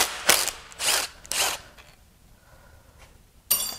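A ratchet fitted with a 9mm socket loosens bolts on a blown-up Ford 5.0 Coyote V8 during teardown: three quick close clicking bursts, a quieter pause, then another short burst at the end.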